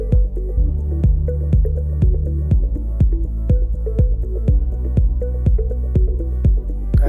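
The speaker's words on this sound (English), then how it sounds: "I will now soak the scarified seed in water." A scarified rain tree seed soaks in water as regular drips fall at a steady, evenly spaced rhythm, close and clear with a low hum underneath.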